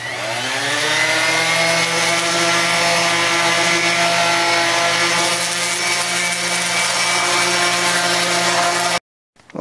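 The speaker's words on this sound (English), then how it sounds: "and we'll sand between coats" A power sander works over a wooden rustic bench between coats of spar urethane, giving a loud, steady whine with a constant droning hum that runs almost the whole time and then cuts off abruptly near the end.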